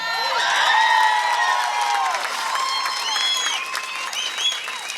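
A crowd cheers and whoops loudly at a Democratic congressional primary victory speech, with sustained cheering, applause and high whistles, gradually easing but continuing throughout.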